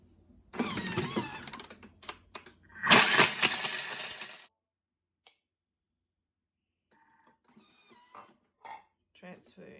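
A food processor at speed 8 chops hard cheese in a loud, rattling burst of about five seconds, preceded by clattering kitchen noise and followed by quiet handling sounds.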